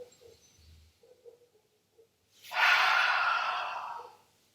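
A person inhales deeply during a hatha yoga breathing exercise. One long, airy breath rises and lasts about two seconds after a few faint, quiet sounds.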